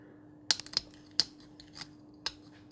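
A craft knife slices through a plastic tabletop model part, giving a few sharp, close snipping cuts spaced unevenly over quiet room tone.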